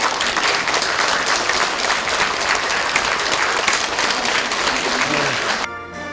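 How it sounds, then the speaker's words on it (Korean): Loud, dense audience applause welcoming a guest at an event held at the National Assembly, sustained and close, ending abruptly as a voice begins speaking. "큰 박수로 환영해 주시기 바랍니다"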